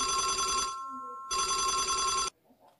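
A telephone rings loud and close in two long electronic bursts with a short gap between them, ending abruptly, with no voices over it.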